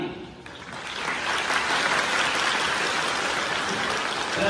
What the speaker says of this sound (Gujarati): मैं चाहूंगा एक जोरदार ताली